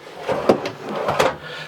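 A drawer slides open in the walk-in closet of a 2018 DRV Mobile Suites 39 DBRS3 luxury fifth wheel, giving two short wooden knocks and scrapes about half a second apart, close and moderately loud against quiet room tone.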